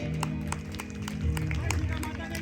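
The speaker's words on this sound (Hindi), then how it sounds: "एक जोरदार ताली लक्ष्मण के लिए, बहुत सुंदर।" Audience clapping at a Ramlila performance, a quick run of claps at moderate distance over a murmuring crowd and a voice speaking underneath.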